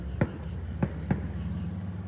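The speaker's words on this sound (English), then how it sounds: "there's currently the McDonald's fireworks show going on" Fireworks going off outside a McDonald's at night, heard as three sharp separate pops about half a second apart, moderately loud over a steady background hum.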